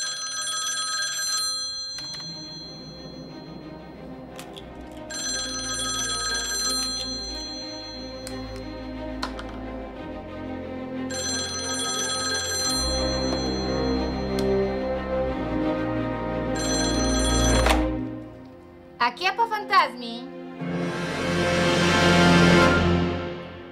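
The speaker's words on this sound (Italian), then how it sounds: "Oh, ecco la nostra prima telefonata." An old-style telephone bell rings in repeated long bursts separated by short pauses, loud and close, over a sustained musical backing that swells toward the end.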